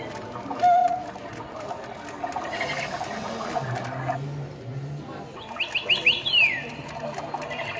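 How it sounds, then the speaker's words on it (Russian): Small bird chirping in a quick run of high, sweeping calls toward the end, heard moderately close over a murmur of indoor background noise. "Птица."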